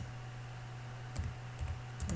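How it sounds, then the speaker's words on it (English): A few quiet, scattered keystrokes on a computer keyboard, faint and close, over a low steady background hum. "I start typing"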